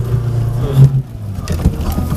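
An off-road car driving through sticky mud and clay; a loud, close engine drone that dips briefly, then resumes with rougher churning.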